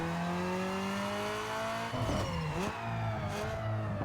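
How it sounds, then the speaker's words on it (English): Video-game Nissan Sentra with a 2.5-litre four-cylinder, revving hard on a dyno in Need for Speed Underground 2: a steady high-pitched engine whine climbs, then a gear change breaks it into a rougher surge before the note rises again, loud and alone. "let's quickly do a dyno run"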